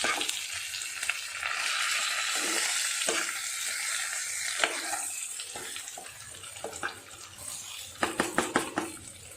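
Masala being stirred and mixed in a hot pan, a sizzling hiss with scraping spatula strokes and a burst of sharp clinks toward the end.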